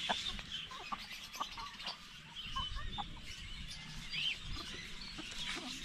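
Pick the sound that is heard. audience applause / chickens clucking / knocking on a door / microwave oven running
chickens clucking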